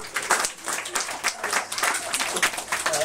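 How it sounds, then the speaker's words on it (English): An audience at a speech event applauds, a dense, steady patter of many hands clapping at moderate distance, with some voices mixed in. "So I think we owe Mark a round of applause for his new talent"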